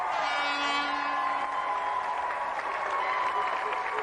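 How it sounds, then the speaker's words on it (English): Steady, full studio audience applause for a volunteer on a 1993 TV games show, dense clapping with some crowd noise that holds evenly throughout. "Round of applause for our volunteer."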